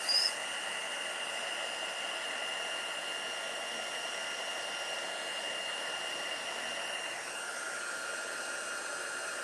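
A heat tool blows steadily while melting embossing powder, a continuous airy whir with a thin high whine that holds level throughout and shifts pitch slightly near the end.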